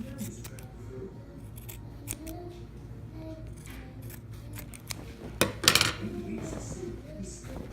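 Scissors trim fabric for a tote bag sewing project, giving a few brief snips and a short louder cluster of cutting near the end over a quiet room background.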